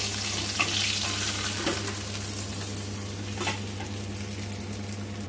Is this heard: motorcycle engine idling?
no